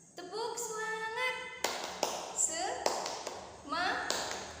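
A teacher sings a short chanted phrase to a primary-school class, then several sharp claps land in a rhythmic pattern between bursts of speech.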